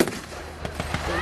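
A tank destroyer gun, an anti-tank gun on a Sherman chassis, fires in a WWII reenactment at an outdoor farm in England, producing a distant blast followed by a few faint muffled booms.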